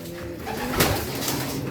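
Racing pigeons kept for a one-loft race give a soft, close coo against a low steady background murmur, a brief throaty call rising midway through.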